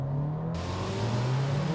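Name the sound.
VW GTI engine accelerating in sport mode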